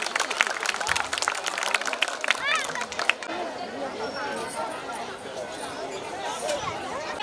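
An audience claps at a school annual day celebration, with dense applause at first that then thins into crowd chatter and scattered claps.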